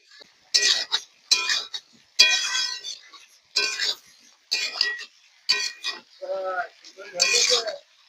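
Fried cauliflower and potato are stirred into spice masala in a pan, a series of sharp metallic scrapes and clinks of a spoon against the pot in short bursts with pauses between, close and without talk.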